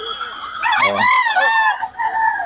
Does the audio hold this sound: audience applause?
no